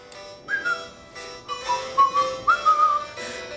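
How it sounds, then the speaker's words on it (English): A person whistles a cheerful tune in short, clear melodic phrases with small pauses between them, close and fairly loud, with no talk over it. "just purse your lips and whistle, that's the thing"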